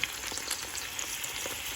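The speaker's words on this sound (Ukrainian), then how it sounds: "Кладемо їх на розігріту з маслицем підсолнечним сковорідочку" Zucchini crackles and sizzles in hot sunflower oil in a pan, a continuous close-up frying hiss with small pops.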